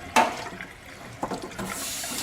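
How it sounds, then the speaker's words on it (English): Warm water runs from a tap into a tub used for cleaning clock parts, a soft steady splashing trickle with a sharper splash at the start and another burst of flow partway through. "Fill it with some warm water"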